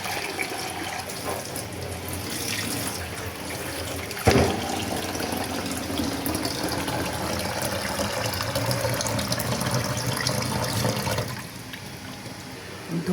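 Tap water runs steadily into a sink as lentils are washed, a close, continuous rushing splash with a sharp knock partway through and a drop in flow near the end.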